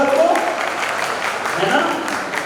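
A seated audience at a Daslakshan Mahaparv religious discourse claps in a steady, dense patter that runs throughout, with voices over it.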